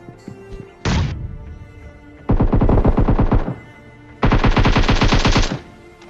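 Gunfire in the video game PUBG: three loud, close bursts of rapid automatic fire, one short and two longer, separated by brief quiet gaps, with no talk over them.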